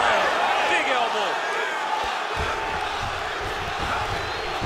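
In a UFC 5 video game fight, a broad, steady crowd roar fills the arena as fighters get back to their feet after a grappling exchange, with faint thuds and a game commentator talking underneath.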